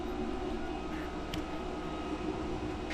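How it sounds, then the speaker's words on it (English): A belt grinder with a surface grinding attachment cleans and flattens the sides of a cable Damascus blade, giving a steady, droning mechanical hum with a couple of faint scraping touches. "We will now be moving over to the belt grinder to clean everything up and flatten the sides."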